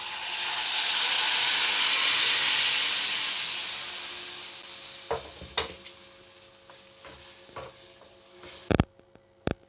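Ground raw tamarind chutney hits a hot tempering pan with a loud, rushing sizzle that swells and then fades to a soft hiss, followed by scattered spoon clinks and scrapes near the end.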